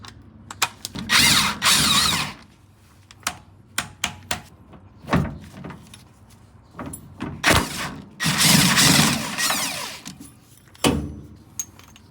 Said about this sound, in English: Before I move forward with removing the rest of these bolts, I put the floor jack here so that it's supporting the weight of this beam.